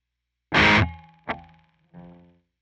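Three distorted electric guitar hits through a noise gate pedal in soft mode ring out, each cut off cleanly into silence, leaving only a faint trace of noise as the notes decay.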